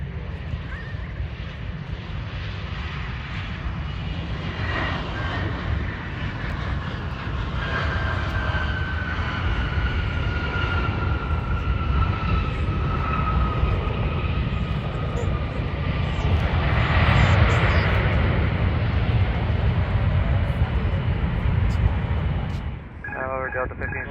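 A jet airliner lands on runway 12 right at Minneapolis airport with a sustained roar and a whining engine tone sliding downward. The sound swells and then fades near the end.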